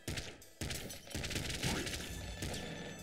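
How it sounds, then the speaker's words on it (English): In the video game Nuclear Throne, a corpse explosion sets off a burst of crashing, shattering blasts that merge into a loud, dense barrage of impacts lasting several seconds. "using the corpse explosion there pretty much meant that I got everything in almost one shot"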